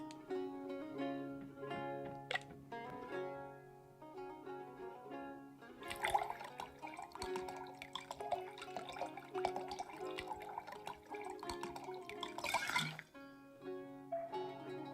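A drink is poured in the tavern of the card-cheating game Card Shark, with liquid trickling and dripping amid soft period background music, a brighter burst of splashing pouring around the middle before it tapers off.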